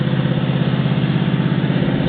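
A 1974 Buick Regal sedan's 350 V8 idles steadily just after start-up, a loud, even low rumble with a constant rhythmic pulse and no voices.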